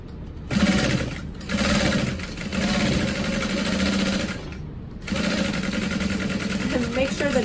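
A sewing machine stitches a crossbody bag in four loud, close bursts of rapid mechanical whirring, with short pauses between runs.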